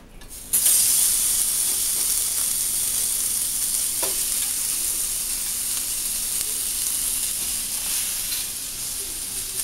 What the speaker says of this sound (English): We've got the tilapia cooking right now